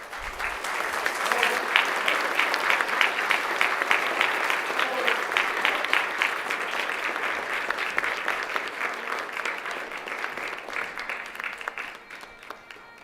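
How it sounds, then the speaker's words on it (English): Sustained applause from a large crowd on a state Assembly floor as a color guard exits, steady and fairly loud for most of the stretch, then tapering off near the end. "and a round of applause for them, please."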